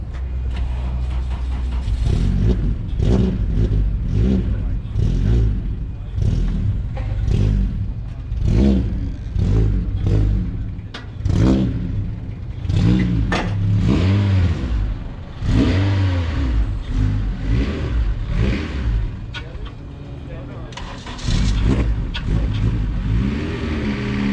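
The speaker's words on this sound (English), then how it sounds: "I'm gonna go ahead and get the car off of the trailer." An Acura RSX with a DIY intake revs loudly as it is driven off a trailer. The engine rises and falls in repeated close, strong bursts throughout, with no talking.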